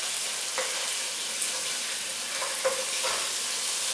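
Butter, about a tablespoon, melting in a hot pan for a creamy chicken mushroom pasta, giving a steady soft sizzle and hiss with a few faint clicks and stirring taps, close and alone without talk.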